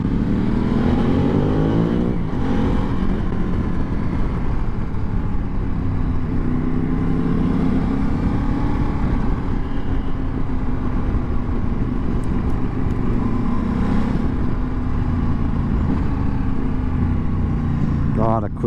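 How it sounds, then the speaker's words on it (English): A Ducati DesertX motorcycle riding on small winding roads toward Saint-Tropez, its engine droning loud and steady with quick-shifter gear changes and brief pitch dips, heavy wind rush throughout and a rider talking over it. "God, a quick shifter."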